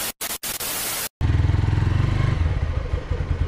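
Motorcycle engine running steadily while the bike is ridden, a low rhythmic thrum that settles into a continuous drone after a few short cutouts at the start.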